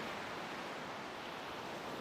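Ocean surf along the wild Olympic National Park coast, a broad, steady roar of waves with a constant washing hiss and no distinct breaks.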